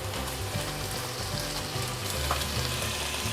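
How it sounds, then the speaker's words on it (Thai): Pork sizzles steadily in a hot pan as it is stir-fried, a dense continuous frying hiss with occasional stirring scrapes, close up and without talk. "ก็ลวนหมูให้สุกเลยนะครับลวนไปเรื่อยๆเลย ให้น้ำในนี้แห้งลงไปสักหน่อย"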